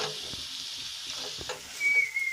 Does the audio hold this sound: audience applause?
no